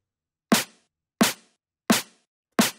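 Stereo snare drum sample for a jump-up drum and bass track, struck four times at an even, steady pace. Each hit is a sharp, crisp crack with a quick decay and clean silence in between.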